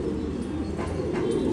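A pigeon, one of a high-flying breed, gives a low soft cooing murmur, steady and fairly close over a brief stretch, with no voices.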